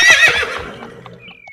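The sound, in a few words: horse neighing, horse-drawn carriage in animated story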